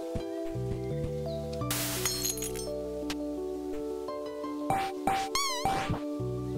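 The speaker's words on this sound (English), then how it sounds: "I never actually heard the cat take damage before." A cat character takes damage in the pixel-art action game Momodora, giving short mewing yelps and clinking hit effects over a steady looping game soundtrack.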